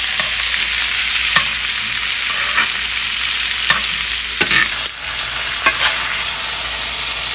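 A ribeye steak sears loudly in a hot pan with herbs and garlic, giving a steady close sizzle broken by occasional clicks and scrapes of utensils.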